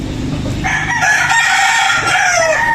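A bull stag gamecock crows once, loud and close, a long rising call that trails off, heard alone.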